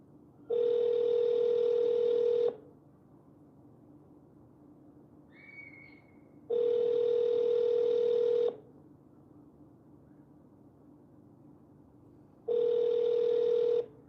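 A telephone call's ringback tone sounds three times, each steady electronic burst lasting about two seconds and separated by a few seconds of quiet before the call would be forwarded to voicemail.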